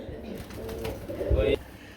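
Two white pigeons at a sale coo in a couple of short, throaty bursts close by, the second louder and fuller, against a muffled background with some indistinct noise.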